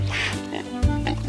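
A pig oinks in a children's animal-sounds lesson, giving a short, nasal grunting call in two quick parts, close and loud.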